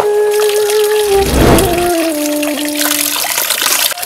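Water flows from a tap into a container, a steady close pour with a brief louder gush partway through and no talk.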